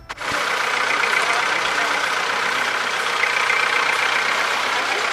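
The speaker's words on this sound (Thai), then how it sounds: "รถไถก็วิ่งนะคะ" A tractor engine runs steadily during cassava planting in a field, a continuous loud mechanical drone lasting throughout without a break.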